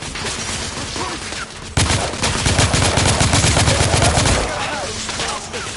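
Heavy sustained gunfire in The Order: 1886 game, a dense rapid machine-gun stream that swells loud and close after a sharper opening burst, continuous over the whole stretch with no clear talk.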